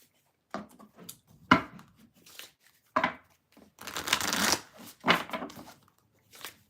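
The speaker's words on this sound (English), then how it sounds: "I'm going to shuffle" Tarot cards shuffled by hand in quiet bursts, soft riffling and slapping sounds coming in irregular clusters with pauses between, close and fairly faint.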